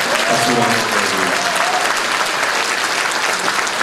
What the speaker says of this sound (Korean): 다 같이 부산시당과 부산의 예비후보님들께 박수를 한번 드립니다.